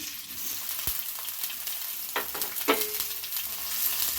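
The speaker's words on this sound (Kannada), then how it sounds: "ಈರುಳ್ಳಿನ ಫ್ರೈ ಮಾಡೋಣ" Onions frying in hot oil in a pan for vegetable fried rice, a loud continuous close sizzle with occasional scrapes and taps of a spatula, no voices.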